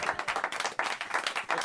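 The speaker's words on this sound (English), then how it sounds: "Give him a big round of applause." Studio audience applause for a football guest on a TV show, a close, dense burst of clapping that continues steadily throughout.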